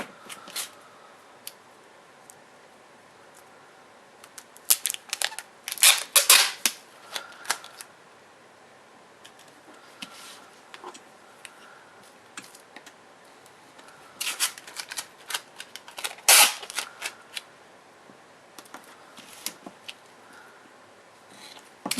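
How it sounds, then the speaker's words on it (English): Clear tape is pulled and pressed onto a handmade duct tape wallet in two bursts of crisp ripping and crinkling, with quiet handling rustles in between. "Now this one you're going to want to cover completely with clear tape."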